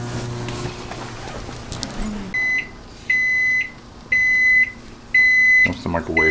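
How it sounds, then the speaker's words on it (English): A kitchen microwave oven gives four evenly spaced, loud electronic beeps near the end, each about half a second long. Clattering and room noise come before them. "That's the microwave."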